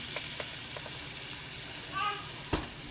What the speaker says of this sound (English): So I've got the butter melting in here, and I'm going to sprinkle in 2 tablespoons of flour